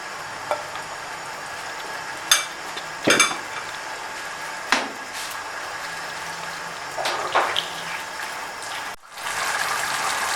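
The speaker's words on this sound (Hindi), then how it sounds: "अब इसमें शामिल करते हैं वही प्याज और टमाटर का पेस्ट। इसको हम थोड़ा 5 मिनट हम पकाएंगे।" Onion and tomato paste cooking in about a cup of oil in a pan for a fish curry, giving a steady low frying crackle broken by several sharp clanks and scrapes of a utensil against the pan.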